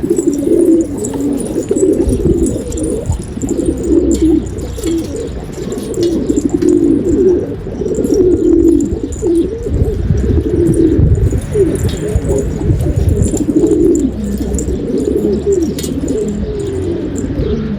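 Pigeons coo continuously inside a freshly painted coop, several birds overlapping in low rolling calls close to the listener, with faint chirps and rustling and no talk.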